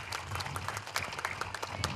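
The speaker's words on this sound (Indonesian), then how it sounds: "Tepuk tangan buat Polda Metro Jaya dan Kodam Jaya" Soft, scattered applause from a crowd at an outdoor community service event in Kemiri village, Tangerang, quick claps overlapping at a distance and staying faint throughout.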